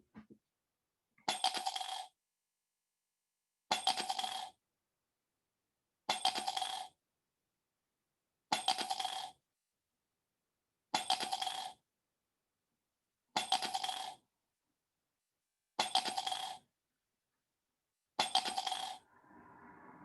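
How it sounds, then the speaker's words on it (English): Eight separate bursts of coins clattering into a mug, evenly spaced about every two and a half seconds, each a short bright jingle with silence between. "listen carefully for the coins going into the mug"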